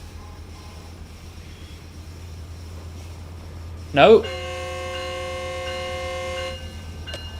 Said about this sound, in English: See what the horn sounds like.